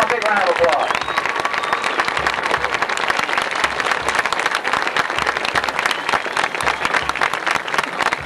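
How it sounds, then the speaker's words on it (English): Sustained crowd applause fills the stands at a 1989 Magnolia High School Panthers homecoming pregame, a dense, even clapping that carries on for several seconds without a break. "Let's all give them a big round of applause."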